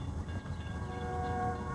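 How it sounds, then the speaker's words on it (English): A train rolls past outside on a Texas trip, a steady loud rumble with sustained horn-like tones drawn across the whole stretch, no talking over it. "Here comes a train."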